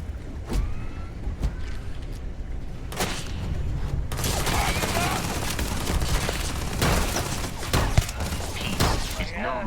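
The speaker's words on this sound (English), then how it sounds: "They're shooting at me." Gunfire from enemies shooting at the player in Starfield crackles in rapid bursts and sharp shots, dense and close, with a voice talking over parts of it.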